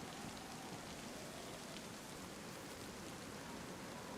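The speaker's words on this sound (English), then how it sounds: "It's raining." Steady rain falls in the survival game DayZ, a dense, even hiss of drops on surfaces with no pauses, fairly soft and uninterrupted by voices.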